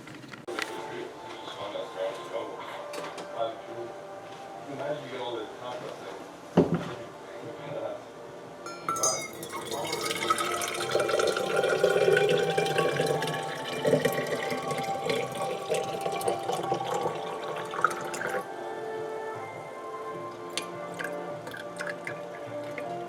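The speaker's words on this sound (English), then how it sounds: "130 degree hot water, pour into it" Hot water at 130 degrees is poured into a thermos, a trickling, gurgling stream of liquid under faint background noise, rising in fullness midway as the vessel fills.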